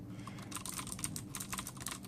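Clicky typing on a Ducky Zero keyboard fitted with Cherry MX Blue switches, a quick irregular run of close, crisp keystrokes with no talking.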